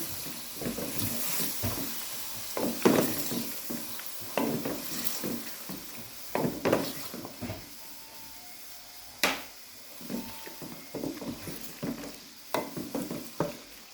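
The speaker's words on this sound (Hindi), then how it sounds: "अब हम इसके अंदर डालेंगे दही। इसको हम अच्छी तरह भूनेंगे।" Yogurt being stir-fried into mutton karahi in a pan, with intermittent scraping stirs and soft sizzling across the whole stretch, punctuated by a few sharper clinks of the utensil, no talking.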